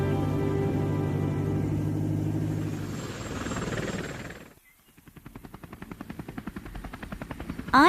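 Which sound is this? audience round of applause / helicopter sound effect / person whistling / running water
helicopter sound effect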